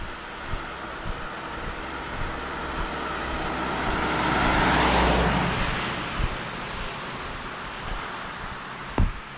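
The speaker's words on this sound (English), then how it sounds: "I'll step off to the side for this car's going by." A car passes along a wet road in the rain, its tire hiss swelling from far off to a loud close peak midway and then fading, while a steady rain wash continues and a sharp knock sounds near the end.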